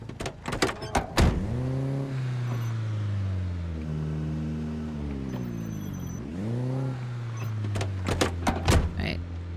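A car in the video game The Last One runs in a loud backup mode, giving a steady whirring engine drone with rising and falling pitch sweeps, framed by sharp knocks and clunks at the start and end.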